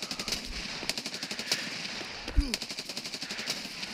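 Video-game automatic gunfire, a full magazine emptied in rapid rhythmic bursts with a brief pause, loud and close, with a faint voice underneath.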